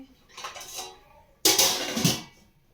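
A small metal rack set down inside a pot for baking a cake, two bursts of clattering metal on metal, the second louder and closer.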